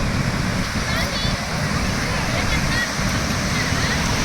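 Sea waves roll in at RK Beach in Vizag, a continuous low roar of surf and rushing water that stays constant and close.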